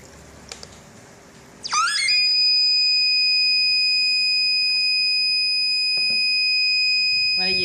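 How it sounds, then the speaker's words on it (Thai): A water overflow alarm starts after a couple of soft knocks, sounding a shrill electronic tone as one loud continuous note, held without pause. "พอน้ำเต็มก็จะมีเสียงเตือนนะครับ"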